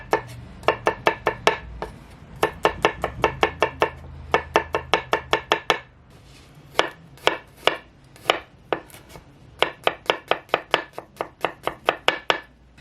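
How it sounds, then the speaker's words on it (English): A knife slices rolled garlic on a cutting board in quick, evenly spaced bursts of crisp taps, close and clear, with short pauses between runs and no talking. "So now that the garlic is sliced"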